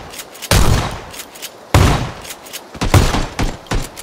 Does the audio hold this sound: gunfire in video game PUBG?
yes